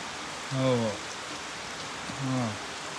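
Steady rain from the season's first heavy downpour hisses across the whole stretch in a Gujarati village, with two brief bursts of voices rising above it.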